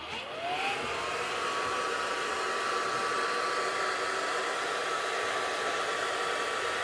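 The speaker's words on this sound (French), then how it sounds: "moi je peux venir sécher avec le sèche-cheveux" A hair dryer drying latex makeup whirs up and runs at a steady, loud, breathy roar close by, continuous throughout with no talking.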